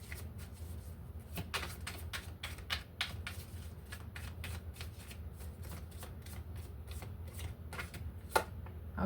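A tarot card deck shuffled and cut by hand, giving a rapid run of crisp, close riffling snaps and flicks that continues for several seconds at a quiet level.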